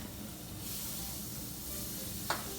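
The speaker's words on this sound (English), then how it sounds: "And I'm gonna melt the butter in there. Hear the sizzle." Butter melts and sizzles steadily in a hot pan, a soft continuous crackle and hiss with a brief sharper pop near the end.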